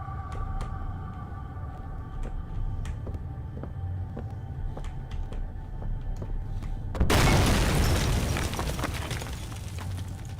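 A loud explosion in the horror video game Penumbra bursts in suddenly after a stretch of quiet ambient hum and faint ticking, a broad booming blast that lingers and fades.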